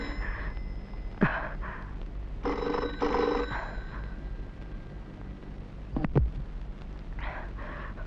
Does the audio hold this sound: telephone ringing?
yes